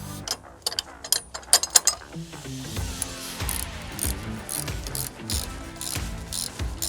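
A ratchet wrench loosens and removes bolts from a roof mounting slot on a RAM ProMaster van, giving bursts of quick clicking pawl ratcheting, close by and fairly quiet, with some handling noise and no talking.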